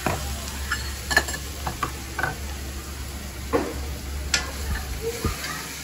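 Onions with turmeric sautéing in a pan for sura puttu, a continuous close sizzle broken by irregular scraping and tapping of a spatula stirring throughout.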